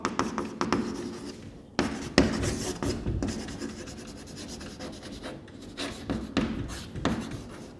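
A teacher writes on a board during a chemistry class, producing faint, scratchy strokes and taps in irregular short bursts, close by and with no talking.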